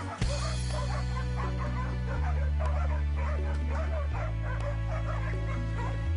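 Hunting dogs barking and yelping excitedly at a wild boar during a pig hunt in New Zealand bush, rapid overlapping barks and whimpers close by over a droning background.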